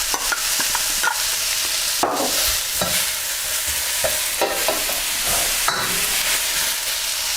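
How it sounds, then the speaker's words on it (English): Satay beef with peppers and carrots is stir-fried in a hot pan, a constant close hiss of frying broken by repeated scrapes and tosses of the utensil. "We just want to stir fry this for about 2 or 3 minutes."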